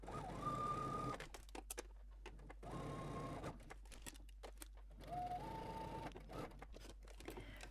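A domestic sewing machine runs in three bursts stitching a skirt side seam, with a steady mechanical whir and a rising motor pitch, separated by short pauses filled with light clicks and fabric handling.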